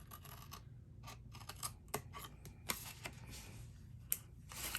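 Scissors snip and scrape through paper to cut a small notch, a quiet run of short crisp cuts and rustles close by, with soft handling noise between them.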